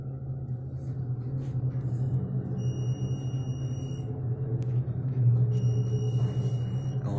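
A MontgomeryKONE hydraulic elevator at a Hilton Garden Inn hums with a steady low motor rumble throughout the ride, with faint high whines and a few small clicks, heard from inside the car without speech.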